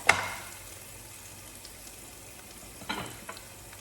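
Wild garlic stir-fries in a hot pan with oyster sauce: a soft, steady sizzle runs throughout, with a sharper scrape at the start and another stirring clatter near the end.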